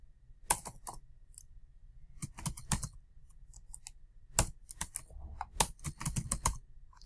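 Close, light clatter of typing on a computer keyboard, with quick clusters of keystrokes separated by short pauses in a quiet room.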